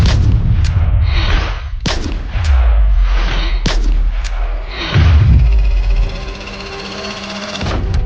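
Loud, close gunshots presented as the Kennedy assassination, several sharp cracks spread over several seconds with heavy low booming rumble between them, no voices.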